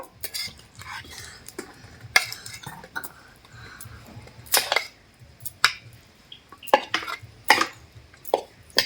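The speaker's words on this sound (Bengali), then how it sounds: "এরপর এগুলো আমি একটা থালার মধ্যে কিন্তু তুলে নেব" Battered cauliflower pieces lifted and set down on a metal plate in a home kitchen: scattered clinks, scrapes and light taps of utensil on plate, irregular and close, with quiet pauses between.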